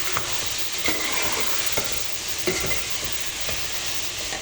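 Mixed chopped vegetables with tomato and green chilli are stirred and fried in a pan, sizzling steadily with scraping spoon strokes throughout, loud and close with no talking.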